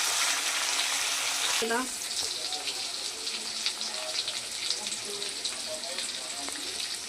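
Tomatoes drop into hot oil in a pan of browned potatoes, and a loud burst of sizzling erupts and then settles into a steady fry, with a few clinks and stirring scrapes and some faint voices in the background.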